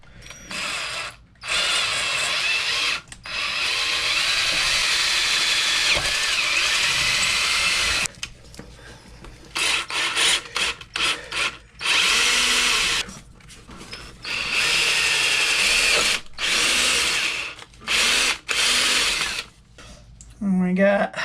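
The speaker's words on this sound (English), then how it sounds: "now that that's in there, you hold the drill" A power drill whirs in repeated bursts, some long and some short, with pauses between runs and brief talk in the gaps, while bolting bumpers onto a Tekno MT410 RC truck.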